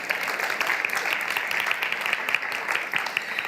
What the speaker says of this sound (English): You can give her actually a very warm round of applause.